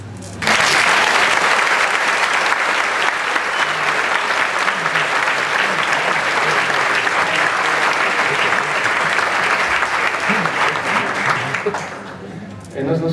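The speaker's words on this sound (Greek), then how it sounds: "θα ήθελα να χειροκροτήσετε αυτά τα παιδιά" An audience applauds children at a 2016 Estudiantina performance with loud, sustained clapping that starts abruptly and continues evenly for about twelve seconds before tapering off.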